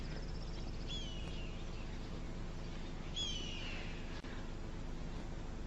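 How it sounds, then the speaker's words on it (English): An eagle soaring overhead gives two thin, descending screeches a couple of seconds apart. The calls sound distant and faint over a steady background hiss. "Oh, is that an eagle?"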